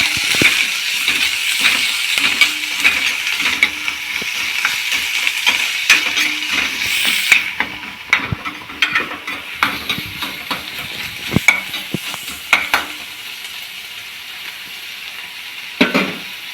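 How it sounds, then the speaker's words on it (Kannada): Onions and green chillies fry loudly in a pan with a bright, steady sizzle and frequent spatula scrapes and clinks against the metal. The sizzle eases partway through while the stirring knocks continue, close and clear, with no voices. "ಇವಾಗ ಈರುಳ್ಳಿ ಸೇರಿಸ್ತಾ ಇದ್ದೀನಿ"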